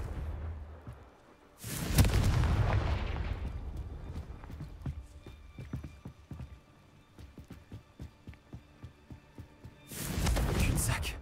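The explosive Confringo spell cast in Hogwarts Legacy. A loud blast with a lingering roar comes early, then a run of quick rhythmic thuds like hooves or footsteps, then a second burst at the end.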